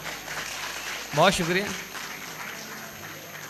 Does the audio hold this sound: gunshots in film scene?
no